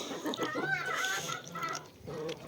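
Chickens, including two crested hens, cluck and call nearby in a short lively burst as they are let out, with varied pitches and a brief pause before the clucking resumes.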